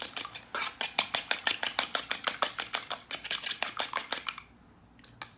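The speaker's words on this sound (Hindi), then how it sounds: "अब हम लोग इनको एक अंडा लेंगे, इसको अच्छे से फेंटेंगे" A fork beats an egg in a bowl for shami kabab, giving a rapid, steady run of about twenty sharp clinks against the bowl that stops abruptly, then one or two faint taps.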